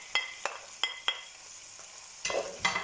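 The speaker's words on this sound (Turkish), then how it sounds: "Soğanlarla beraber 1-2 dakika soteliyorum." Chopped onion sautéing in about half a tea glass of vegetable oil in a pan for rice pilaf with meat, quiet sizzle under a few sharp clinks and scrapes of a stirring utensil.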